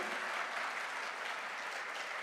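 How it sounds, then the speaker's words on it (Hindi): Steady applause from a crowd at a direct selling success celebration, many hands clapping densely and continuously, heard from some distance at moderate volume. "एक बार जोरदार तालियां होनी चाहिए।"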